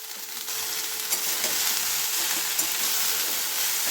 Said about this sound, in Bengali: এবারে আমি শাকটা দিয়ে দেবো।